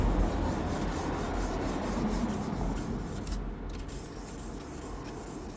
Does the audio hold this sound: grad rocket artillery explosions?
no